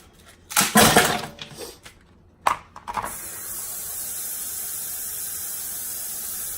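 Tap water running steadily from a sink hose around the side of a pot sitting in an ice bath, a continuous even hiss after a few louder splashes and clunks.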